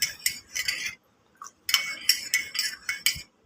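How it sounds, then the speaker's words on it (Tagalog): A metal utensil stirs rice in a pot at breakfast, giving a run of close, bright clinks and scrapes in short bursts, with a brief pause partway through and no talking. "Haluin natin mabuti."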